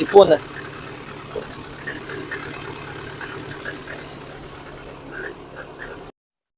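A repaired car engine idles steadily after starting, a low continuous rumble running for about six seconds, with someone talking over it before it cuts off.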